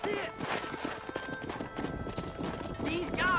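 A horse gallops with steady clip-clop hoofbeats while herding cattle in the Red Dead Redemption video game. A voice talks over the busy, continuous hooves throughout.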